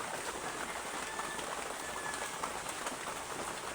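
Steady rain patters on a surface nearby, a constant soft hiss with scattered drips and no voices.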